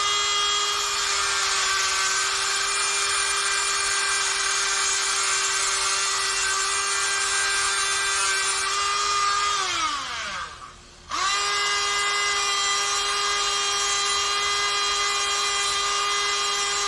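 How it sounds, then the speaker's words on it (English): Dremel with a cutoff wheel cutting into an intake part for a Honda Helix scooter, a steady high-pitched whine that dips as the wheel bogs down, briefly stops, then spins back up. "I just got a Dremel with a cutoff wheel."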